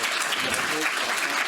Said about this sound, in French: si vous les avez trouvés exceptionnels comme moi,